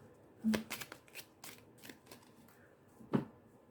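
Oracle cards being shuffled by hand: quick riffling bursts of card edges flapping together, a louder burst early and another near the end, close and fairly quiet with pauses between.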